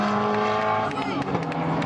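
A race car, number 72 at an Aston Martin Owners Club meeting at Snetterton in 1995, roars past nearby with a loud engine that swells and fades, under a commentator's voice.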